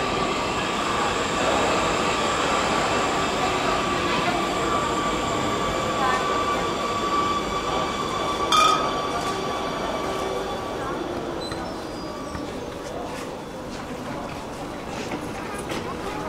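An Amsterdam metro line 52 train rides through the night with a steady rumble of wheels and rails, faint squeals, and a brief clank midway, while a voice speaks over the carriage noise.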